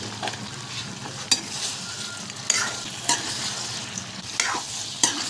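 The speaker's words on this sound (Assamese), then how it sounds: "মই এতিয়া আলুখিনি দি এনেকৈ ধুনীয়াকৈ লাৰি আছোঁ" Potatoes stirred into a duck curry in a pan, a close, steady sizzle with several sharp scraping knocks of the spoon against the pan spaced through it.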